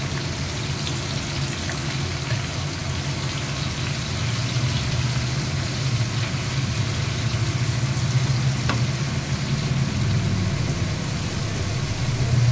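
Vegetables tumble into a hot pan of spiced onion and sizzle steadily, a continuous, fairly loud frying hiss that holds evenly throughout with no talking.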